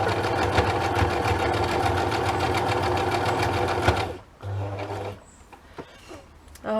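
A sewing machine runs fast with a rapid, steady mechanical chatter, then stops abruptly, leaving a low hum and a few faint clicks.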